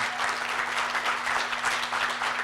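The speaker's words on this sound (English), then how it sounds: "Let's give a round of applause to these people that set this up." Steady, dense applause from an audience in a meeting room, thanking the people who set the event up, filling the whole stretch at an even, fairly loud level with no pauses.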